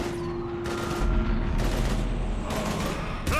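Bursts of rapid gunfire crackle in the Mass Effect 3 video game during a fight against zombies, several loud volleys in quick succession with short gaps between them.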